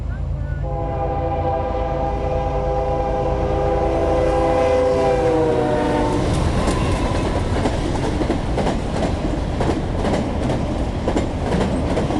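A train rumbles steadily along the tracks, its horn sounding in layered tones early on, then heavy rolling clatter of wheels grows loud and close.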